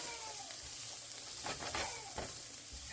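Ingredients for pea soup sizzle steadily in a hot pan, a continuous close frying hiss broken by a few sharper stirring scrapes.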